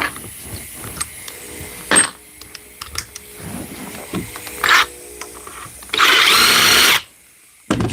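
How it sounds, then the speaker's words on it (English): A power drill boring a hole through the top of a wooden drawer cabinet during carpentry installation work, with several short bursts and a sustained loud whir near the end, close by, over workshop clatter. "Drill a hole on the top."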